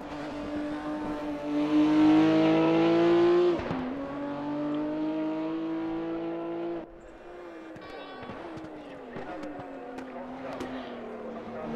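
Race car engine from the RaceRoom racing game, a loud high-revving drone that climbs, drops and shifts gears over about twelve seconds, with no voices.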